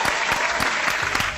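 Studio audience applause for actor Daniel Rocha on a talk show, a burst of brisk, dense clapping throughout, fairly loud and close, with no talk over it.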